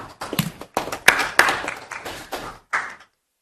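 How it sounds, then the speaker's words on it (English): Applause for the police chief in a town council meeting room, a short burst of clapping from a modest group of people with uneven, rattling claps that build, pause briefly and then fade out. "Wow, round of applause, Chief."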